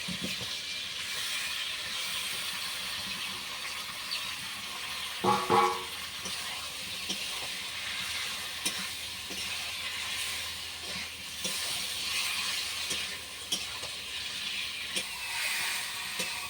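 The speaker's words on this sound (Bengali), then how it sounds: "এরপর আমি যে সবজিটা ভেজে রেখেছিলাম এটা এর মধ্যে দিয়ে আমি ভালো করে কষিয়ে দেবো" Fried vegetables (gourd, potato, eggplant) stir-fried in a pan for a fish curry, a steady hiss and sizzle with a burst of scraping stirs partway through.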